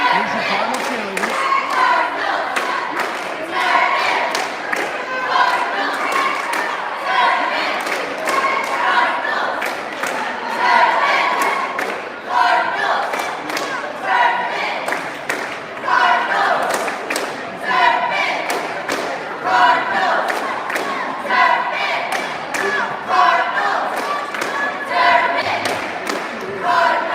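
High school cheerleaders at a varsity boys basketball game chant and stomp in rhythm for nearly half a minute, with a crowd adding thumps and claps in a busy, echoing gym.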